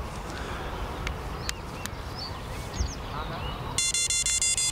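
A fishing bite alarm on a rod sets off a run of rapid electronic beeps near the end, rising above a quiet outdoor background with faint bird calls.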